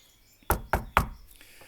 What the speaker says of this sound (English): There was suddenly a loud tapping noise.